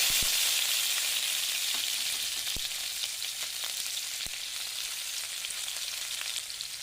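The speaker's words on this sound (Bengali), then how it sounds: "এই তেলের মধ্যে একটা তেজপাতা দিয়ে দিলাম পেঁয়াজ কুচি দিয়ে দিলাম" Bay leaf and chopped onion frying in hot oil, a bright steady sizzle with occasional pops and crackles, close and fading slightly as it settles.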